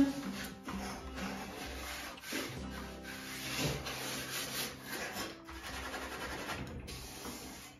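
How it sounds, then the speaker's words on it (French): A bronze brush scrubs wooden furniture in steady back-and-forth strokes, making a continuous close rasping and rubbing sound with rhythmic swells. "je vais prendre la brosse bronze, hein, la brosse qui ne règle pas les meubles."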